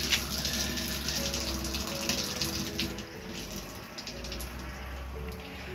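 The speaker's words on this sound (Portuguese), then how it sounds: "Pedi aqui pro nosso amigo Vinícius ligar aí a torneira para estar mostrando aí pro pessoal." Water runs steadily from an opened tap at a home, a constant close rushing flow that holds at an even level throughout, with no talk.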